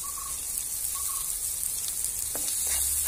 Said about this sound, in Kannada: ಈರುಳ್ಳಿ ಒಂದು 2 ನಿಮಿಷ, 2 ರಿಂದ 3 ನಿಮಿಷಗಳ ಕಾಲ ಸ್ವಲ್ಪ ಫ್ರೈ ಮಾಡ್ಕೊಳ್ಳಿ